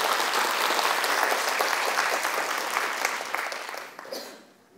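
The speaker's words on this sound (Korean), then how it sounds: "처장님을 박수로 맞이하도록 하겠습니다." An audience at a design seminar applauds to welcome a speaker, sustained dense clapping that holds steady before fading out at the end.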